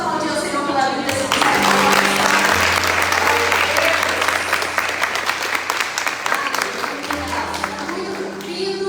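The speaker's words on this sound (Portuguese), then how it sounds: "Vamos aplaudir o Senhor" Church congregation at a Sunday service breaking into sustained applause lasting several seconds, loud and dense, with a voice speaking briefly before and after.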